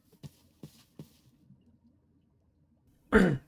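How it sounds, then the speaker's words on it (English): Three short, quiet coughs come in quick succession, followed by silence and then one louder, harsher cough close by. "Coughing. Coughing is the word."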